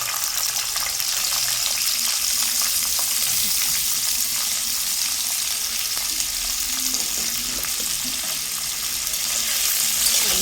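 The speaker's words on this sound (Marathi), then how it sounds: "गरम झाल्यानंतर त्यामध्ये कणकणी टाकतो" Pieces of kantoli (spiny gourd) frying in hot oil for a Marathi vegetable dish, giving a steady, dense sizzle that holds at an even level throughout, with occasional faint stirring clinks and no voices.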